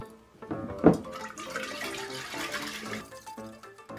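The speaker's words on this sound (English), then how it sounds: "What happens when you pour oil into water?" Liquid oil poured into water splashes and gurgles softly up close, a brief louder splash early on followed by a running, burbling pour that trails off.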